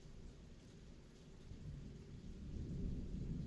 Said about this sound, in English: Yeah, that's real thunder.